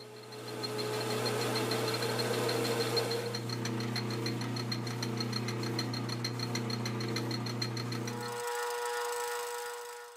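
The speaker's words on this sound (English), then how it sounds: "we're going to go ahead and drill this out 7/16" A steady lathe drone with a high whining 7/16 drill cutting through a metal nut, holding for about eight seconds before the motor cuts out and a faint ringing tail remains.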